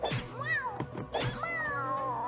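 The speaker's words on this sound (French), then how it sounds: "Oh non! Oh, le chaton!" Kitten meowing in several drawn-out, rising and falling cries, close and fairly loud, with short gaps between calls and one long wavering meow at the end.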